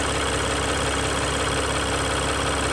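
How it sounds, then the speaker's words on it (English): A 2021 Jeep Gladiator EcoDiesel runs at idle after a fuel filter change, its high-pressure fuel pump shuddering while it purges air. The loud, steady engine drone continues without a break. "The high pressure pump, you hear that shuddering in there?"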